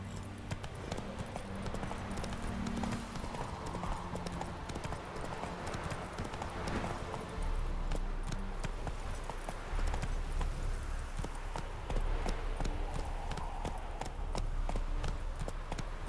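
Hoofbeats of Roach, the horse in The Witcher 3, clip-clop in a steady fast gallop over a low rumbling ambience, continuous throughout with no talk.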